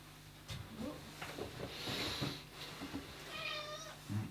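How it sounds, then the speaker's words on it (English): A cat meows a few times close by, short plaintive calls with some shuffling and a soft background hum. "The cat's come in."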